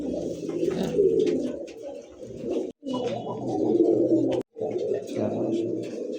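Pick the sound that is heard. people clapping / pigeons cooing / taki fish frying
pigeons cooing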